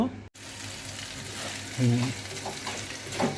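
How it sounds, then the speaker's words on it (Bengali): Beef sizzles in a covered pan while being cooked down for kala bhuna, a soft, steady frying crackle with a few brief clinks and stirring sounds over a quiet background. "এটাকে আরও ভাজা ভাজা করতে হবে"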